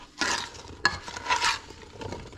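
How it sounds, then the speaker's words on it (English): Potatoes tossed and stirred with Lawry's seasoned salt and black pepper, making close, rustling, scraping sweeps with a couple of sharp utensil clinks. "Going to give that a stir."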